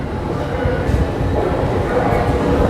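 An LA Metro train rumbles into a deep underground station on the Regional Connector, a continuous low rolling roar with rail clatter building steadily, heard amid station ambience and nearby voices.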